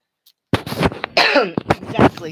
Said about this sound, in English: I'm trying to put my hand over the microphone when I cough.